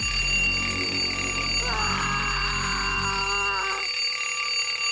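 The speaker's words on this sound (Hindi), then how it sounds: "अलार्म क्लॉक, अब तुम गई।" A cartoon alarm clock rings with a sustained metallic bell trill that starts partway in and stops abruptly near the end, over a busy background of music and effects.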